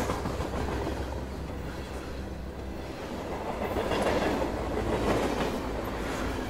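A train rolls along steadily with a dense rumbling clatter of wheels on rails, a continuous moderate-level rush that holds throughout without pause.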